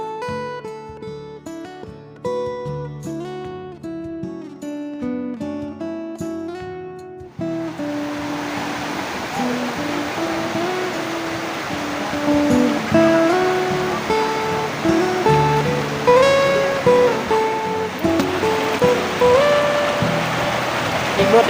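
Tad Yuy waterfall, a continuous broad rush of falling water heard close and loud after an opening stretch of music, with the music continuing faintly over the roar.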